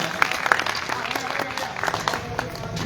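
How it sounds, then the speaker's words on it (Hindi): A crowd at a Hindi poetry recital claps continuously, a steady patter of applause with a few sharper claps standing out. "मैं चाहता हूं एक बार जोरदार तालियां आप आदरणीय दादा के सम्मान में बजाएं।"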